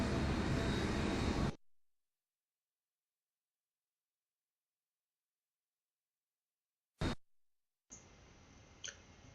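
Simulated airliner engine roar from the FSX flight simulator on approach to Sydney's runway 34 left: a loud, dense drone cuts off abruptly, then silence, a brief burst, and a quieter steady hum.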